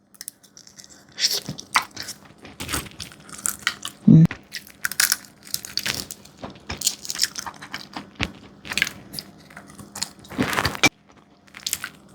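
Large, long, hand-picked boiled peanuts in their pods, crisp and juicy, bitten and chewed close up: a run of irregular crunchy bites and moist chewing, with one sharper snap partway through.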